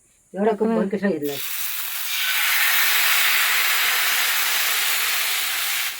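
Gavhne batter on a hot pan over a wood-fire chulha lets out a loud, sustained hiss that rises after a short burst of a woman's speech and holds steady to the end.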